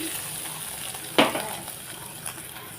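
Batter frying in hot oil in a wok gives a steady, even sizzle with one sharp scrape near the middle and a fainter knock later, with no talking.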